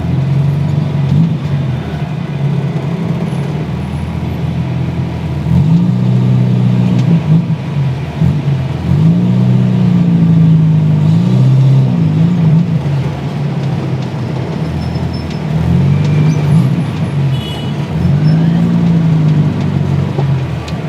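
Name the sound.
1987 Suzuki Katana Jimny long chassis 1000 cc driving on toll road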